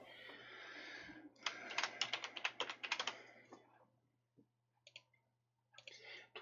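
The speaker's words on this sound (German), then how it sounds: "die Tastatur ist halt nun mal nicht so die leiseste" A loud computer keyboard clatters in rapid bursts of keystrokes, pauses briefly, then resumes with a few scattered taps and another short flurry of typing.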